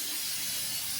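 Aerosol brake cleaner sprays onto the engine of a Honda Z turbo kei car in one steady, close, breathy hiss lasting about a second.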